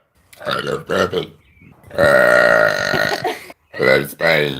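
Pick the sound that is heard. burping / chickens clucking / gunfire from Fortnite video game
burping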